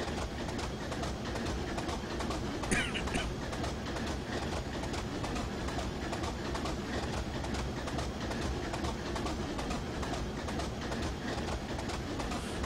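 A Class 25 diesel locomotive in Train Simulator 2015 rumbles steadily with a constant rail drone and faint rhythmic clatter, continuous and dense throughout, with a brief higher-pitched squeal early on.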